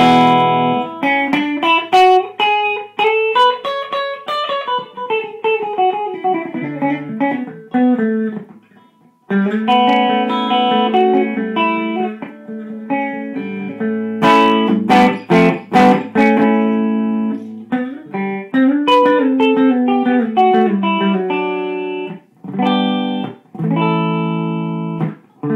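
Electric guitar played through a custom-made 6550/KT88 tube amplifier with dual rectifiers, loud and clean, ringing chords and single-note runs with sustained notes and brief pauses, captured close on a phone microphone.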